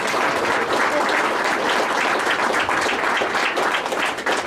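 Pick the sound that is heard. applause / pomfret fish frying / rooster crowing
applause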